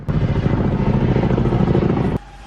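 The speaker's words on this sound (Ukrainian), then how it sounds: "для гасіння пожежі залучають не лише ДСНСників, а й пожежний вертоліт" A firefighting helicopter passes close overhead during a fire in the Kyiv area, its rotor a loud, steady throbbing drone that cuts off abruptly after about two seconds.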